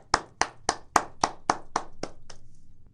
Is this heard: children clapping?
yes